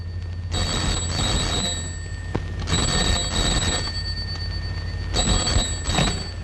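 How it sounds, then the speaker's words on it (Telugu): A telephone rings in an empty house, its bell pattern in three repeated bursts with short pauses between, loud and close, over a low steady background hum. "ఫోన్ అవుతుంది, ఇంట్లో ఎవరు లేరు."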